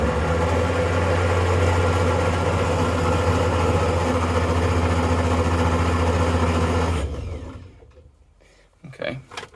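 A Morris Minor ratrod engine runs with a loud, steady low rumble for about seven seconds, then cuts out abruptly, leaving quiet shuffling and a few brief knocks.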